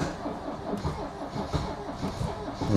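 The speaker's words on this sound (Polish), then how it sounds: "Gaz do dechy, odpalamy." Old Mercedes W123 being revived after long disuse, its starter cranking with a rough, uneven mid-pitched chug that never settles into a clean idle, heard fairly quietly and close by.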